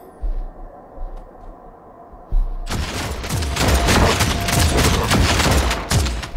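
Rapid gunfire from Warhammer 40k: Deathwatch, a Tyranid invasion battle, breaks out after a quiet stretch with a few low thumps and then keeps up as a loud, dense volley of shots that runs to the end.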